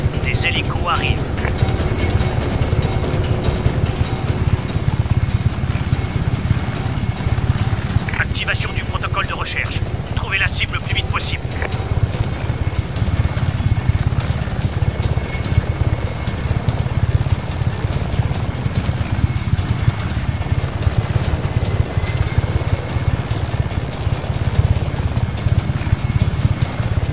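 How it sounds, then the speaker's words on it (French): Helicopters approach in the open-world action video game Just Cause 3, giving a continuous rotor and engine drone under frequent talk and radio chatter, with some brief higher bursts midway. "des hélicos arrivent"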